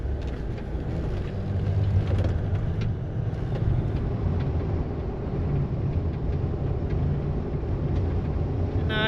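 An overlanding vehicle cruises on a Southern California highway near Lucerne Valley, a constant loud rumble of engine and road noise droning evenly throughout without any speech.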